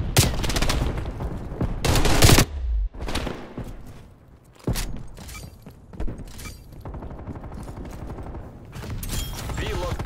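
Sniper rifle and automatic gunfire in a Black Ops Cold War match on Nuketown 84, loud sharp shots with bursts and a heavy blast around mid-clip, continuing amid game noise with faint voice chatter.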